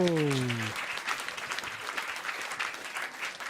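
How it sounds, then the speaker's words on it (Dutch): An awards-event audience applauds: steady, moderately faint clapping fills the room, with a short voice at the very start before the applause carries on alone. "Dames en heren, mag ik een heel hard applaus"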